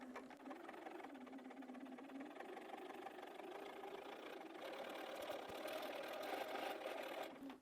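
A sewing machine stitches a mini charm quilt project in one continuous run, its motor whirring steadily and close, rising slightly in intensity toward the end before stopping abruptly.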